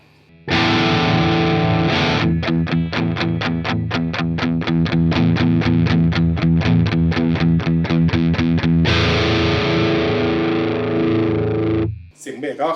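A distorted electric guitar with a bass-boosted tone through a Brunetti Pleximan pedal chugs a fast, even run of palm-muted notes, framed by heavy ringing chords at the start and finish. It is loud and close.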